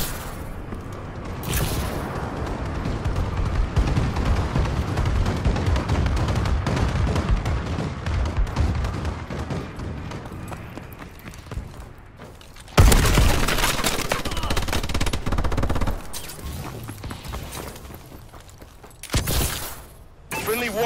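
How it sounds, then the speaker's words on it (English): Loud, dense explosions and booming blasts from a friendly bombing run in a video game, rolling continuously for the full stretch with heavier bursts near the end, while in-game voice callouts sound underneath. "Friendly bombing run clearing the way."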